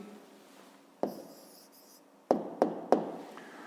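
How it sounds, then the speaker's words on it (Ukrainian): A pen scratches the answer onto paper for a fifth-grade maths exercise, with one short writing stroke followed by three crisp taps and strokes close by in a quiet room. "Пишемо тоді відповідь."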